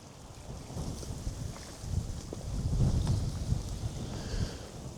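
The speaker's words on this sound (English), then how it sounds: "Wind's picking up, it's getting dark." Wind picks up outdoors at a fishing spot, gusting against the microphone in low rumbling buffets that swell and ease over a few seconds, with no talk.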